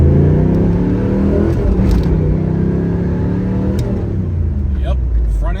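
A 1997 Pontiac Trans Am WS6 with a manual gearbox accelerates hard through the gears, its engine a loud, close rumbling drone with rising and falling pitch at each shift, while someone talks over it.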